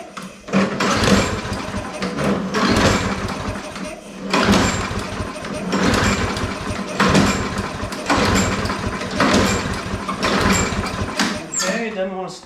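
A used lawnmower engine is cranked again and again without catching, each pull giving a loud burst of sputtering mechanical churn in an uneven rhythm with short pauses between, close by.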